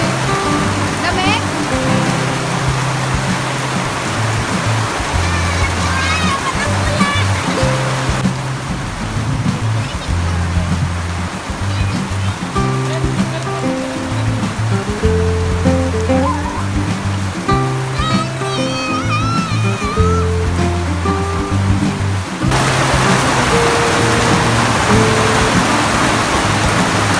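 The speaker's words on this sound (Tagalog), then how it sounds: "Kasi yung ulan dito, may kasamang malakas na hangin." Steady heavy rain with strong gusting wind in Urbiztondo, Pangasinan, during mango picking, a continuous loud wash throughout with music playing underneath.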